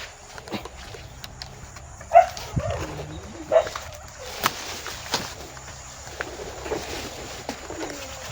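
A dog gives a few sharp barks and whimpers amid outdoor background noise, the barks spaced irregularly, with birds and other ambient sounds around.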